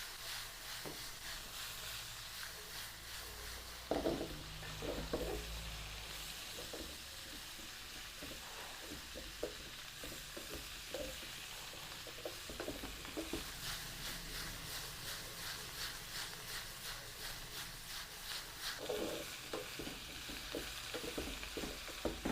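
Cabbage and chicken are stir-fried in a hot pan. A quiet, continuous sizzle runs under repeated stirring and scraping clatter, with a louder burst of tossing early on.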